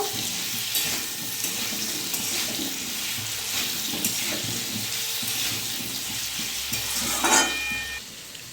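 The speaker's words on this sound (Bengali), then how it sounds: "ভালো করে আলুটা ভেজে নেব।" Potatoes fry in a pan for Bengali aloo chorchori, a continuous hiss and sizzle with scraping stirs and a brief clatter near the end, heard without speech.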